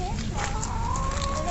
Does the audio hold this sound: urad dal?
no